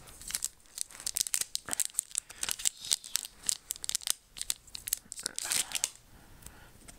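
A Dragon Ball Dragon Blast booster pack being cut and torn open up close, with sharp bursts of crinkling and ripping foil in an irregular series of quick rustles.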